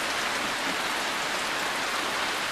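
Steady rain pours down outside a dome shelter, a dense, even hiss of drops drumming on surfaces that stays loud and unbroken throughout.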